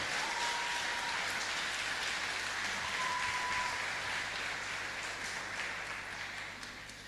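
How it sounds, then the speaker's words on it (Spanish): Church congregation applauding loudly, a dense, steady roar of clapping filling the room for the whole span, with faint tones and voices buried underneath, slowly easing off toward the end. "Aplaudan fuerte al Señor ahora."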